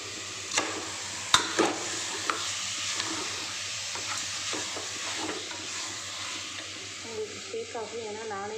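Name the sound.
mutton sautéing in masala in a pan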